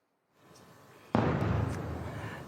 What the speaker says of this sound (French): Une énorme explosion donc qui vient de retentir au-dessus de Tel Aviv.